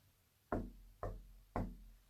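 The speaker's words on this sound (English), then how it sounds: "And again, I'm going to knock." Knuckles rap three times inside a coal shed, a steady, deliberate sequence of close, solid thuds with brief booming decay against near silence.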